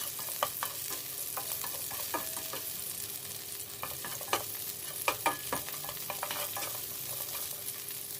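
Sliced onion sautéing in a pan for Ilocano beef nilaga: a steady close sizzle of frying, broken by scattered clicks and scrapes from stirring, with no talking.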